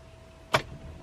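A single short mechanical click as the ignition of a BMW E39 M5 is turned to the on position, close and crisp, over a faint steady hum.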